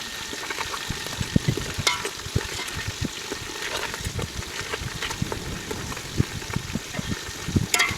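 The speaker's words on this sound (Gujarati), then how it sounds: "હાલો આપણે તેલ આવી ગયું એટલે ડીબા આપણે તળવા નાખી દઈએ" Crab pieces crackling and sizzling as they fry in hot oil, a dense, steady spatter with frequent sharp pops throughout, close and fairly loud, with no talking.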